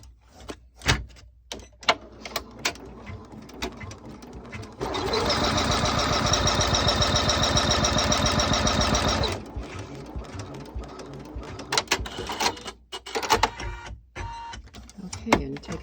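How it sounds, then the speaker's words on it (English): A machine stitches a card money holder pocket on printed vinyl in a steady, rapid mechanical run of about four seconds, framed by clicks and handling noises, with brief talk before and after. "we'll take it back to the machine, and we'll stitch out step 2"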